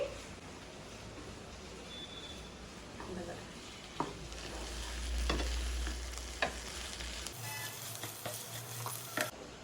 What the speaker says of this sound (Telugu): కొద్దిగా పచ్చివాసన పోయేంత వరకు ఒక రెండు మూడు నిమిషాలు వేయించుకుంటే సరిపోతుంది